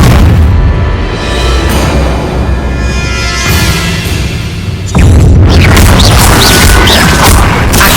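A Confringo blasting spell goes off in Hogwarts Legacy, a loud booming blast that rolls on for several seconds before a second, heavier burst of crashing noise takes over.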